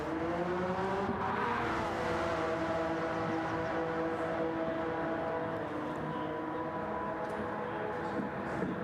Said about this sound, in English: Looney right here, downshifting to get into the turn